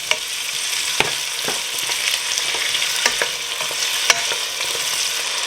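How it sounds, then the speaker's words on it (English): Cut-up potatoes go into a pot of frying garlic, giving a steady close sizzle broken by scattered clicks and taps of stirring, with no talking. "Now I'm going to add my 2 cut up potatoes."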